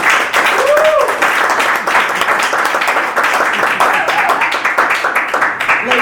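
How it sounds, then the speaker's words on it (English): Steady, dense applause from a seminar audience at an NLP training session, many hands clapping together at an even level throughout, with a few voices faintly underneath. "give me a round of applause"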